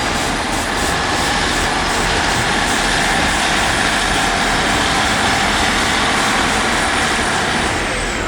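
A Class 150 diesel train passes at Leeds station, a loud, steady, broadband rumble of engine and wheels that fills the whole stretch without easing, close by, with no voices.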